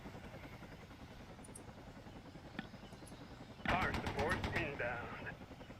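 A Cobra attack helicopter in the Vietnam '65 video game gives a steady rotor drone. Partway through, a louder burst of rapid, rhythmic gunfire breaks in and lingers.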